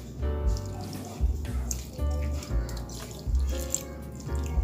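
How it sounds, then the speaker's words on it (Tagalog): Vinegar poured into a pan of fish for paksiw, a trickling, dripping liquid sound in irregular bursts close by. "Tapos lagyan ko siya ng vinegar."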